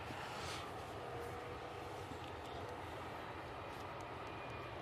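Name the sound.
business jet aircraft departing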